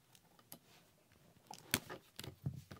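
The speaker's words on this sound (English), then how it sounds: "I got a pair of scissors." Scissors snipping open the packaging of a Tales of Symphonia collector's edition: a few sharp, close clicks and cuts scattered irregularly, quiet overall with soft handling noise between them and no talk.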